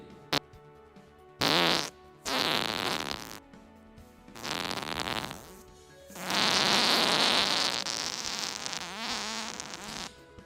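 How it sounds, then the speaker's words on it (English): A raspy, wet human fart sounds in several loud, sustained bursts with sputtering gaps between them, close and alone with no voices. "Here is the fart in question."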